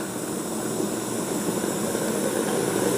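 Steam hisses out of a heated crucible of burning magnesium, its lid left slightly ajar, a steady, broad, moderately loud rushing with no talking.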